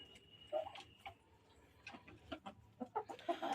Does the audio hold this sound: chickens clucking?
yes